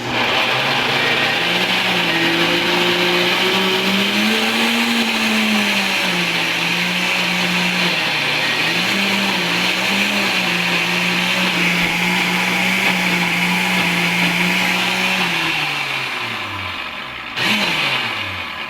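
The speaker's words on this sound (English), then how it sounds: "with a cheaper blender, it does take a bit more work to get it all blended up" A blender runs continuously with a loud motor whine that shifts pitch slightly as it churns, then winds down near the end.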